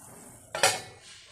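A metal lid set onto a cooking pot of Kerala onion curry, a single sharp clank followed by a short fading ring, close and alone.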